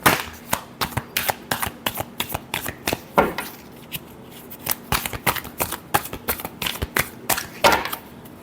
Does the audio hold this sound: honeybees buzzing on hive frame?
no